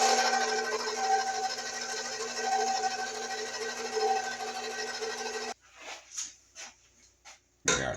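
An electric mixer whirs steadily as heavy cream and milk are blended for blueberry bread pudding, a continuous loud motor drone that cuts off abruptly partway through, followed by a few quiet clinks and bumps.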